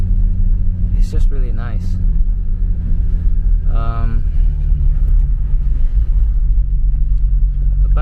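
A BMW E34 M5 with its motorsport-derived S38 inline-six idles steadily up close, a smooth low drone running the whole time while someone talks over it.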